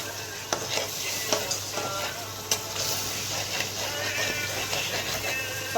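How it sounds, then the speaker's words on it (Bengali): Cumin-chili paste and salt are stirred in a pan with a low, steady sizzle. Sharp scrapes and clicks from the utensil come at irregular intervals, close and fairly quiet. "জিরে মরিচ বাটা, লবণ দিলাম, দিয়ে এটা নেড়ে নেব।"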